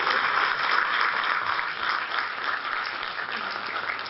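An audience at an advocates' gathering claps in a steady, dense round of applause that stays loud and even for the whole stretch, with no voices over it.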